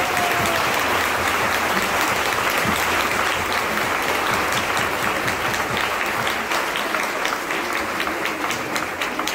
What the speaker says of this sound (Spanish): Un aplauso para Cristo Jesús